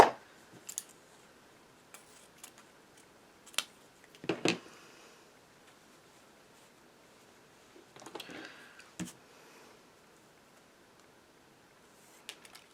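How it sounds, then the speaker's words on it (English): Scissors snip through a piece of ribbon in a few scattered, quiet cuts spread across a mostly hushed stretch, with small handling clicks between them. "put my ribbon down on here. So I'm going to cut a piece off."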